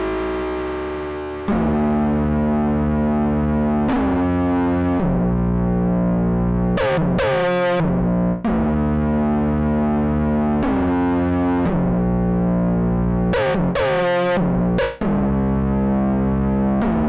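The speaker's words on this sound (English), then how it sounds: "let's now engage the dual spring reverb units, and these are real spring reverbs inside this" A Korg ARP 2600 synthesizer with its dual spring reverb engaged plays loud sustained tones with distorted, resonant harmonics, changing note every few seconds, with occasional sharp splashy bursts.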